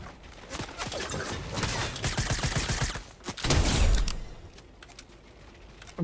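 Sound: unexpected gunfire in Fortnite video game

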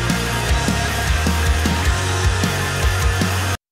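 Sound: mixed song played back from a mixing session

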